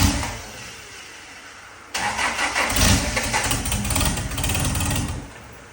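A car engine at a dyno-prep session cranks over and catches with an abrupt start, then revs up under a little throttle and settles into a steady, loud idle for several seconds.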